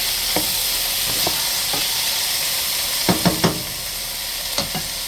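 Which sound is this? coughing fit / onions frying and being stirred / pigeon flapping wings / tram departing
onions frying and being stirred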